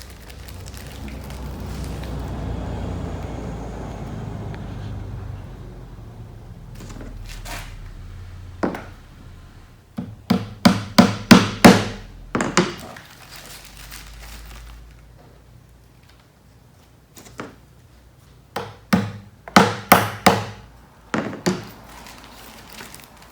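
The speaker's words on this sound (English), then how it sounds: "take your hammer and start hammering the brads into our pre-drilled holes" Several bursts of sharp hammer taps driving brads into pre-drilled holes in a wooden bat house, quick strikes in clusters with pauses between, fairly close, over a low background rumble.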